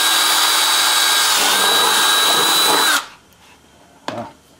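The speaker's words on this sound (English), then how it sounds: "Alright, I'm going to drill a 3/8 hole here because that's the size of the bolt I'm using." Power drill boring a 3/8 inch hole into a wooden log, a loud steady whine for about three seconds that cuts off abruptly, followed by a short knock.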